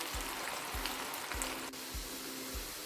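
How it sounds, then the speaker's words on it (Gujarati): Pieces of bitter gourd (karela) fry in hot oil, giving a steady close sizzle broken by soft regular low thumps, about five across the stretch, with no talking. "હવે આપણે બાકીના વધેલા કારેલા છે એને પણ આવી રીતે તળી લેશું"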